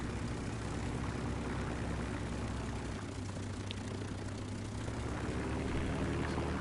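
Steady droning propeller engine of a German fighter plane in War Thunder, loud and continuous with a low harmonic rumble, the plane pitching and losing control in flight.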